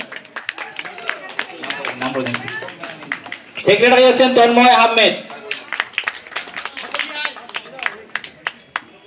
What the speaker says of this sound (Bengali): হাততালি দিন সবাই